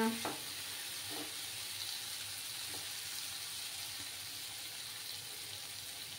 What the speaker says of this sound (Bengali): মশলাটার থেকে যতক্ষণ না তেল ছেড়ে আসছে ততক্ষণ আমাকে কষিয়ে নিয়ে যেতে হবে